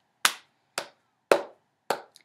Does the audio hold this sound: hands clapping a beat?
yes